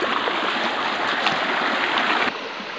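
A river rushing through the forest of Namdapha National Park in Arunachal Pradesh, loud, close and continuous broadband water flow that drops slightly in level near the end.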